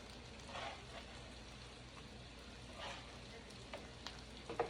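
Onion and home fries sizzle quietly in a frying pan, a soft, continuous crackle with a few brief louder spatters and stirring scrapes.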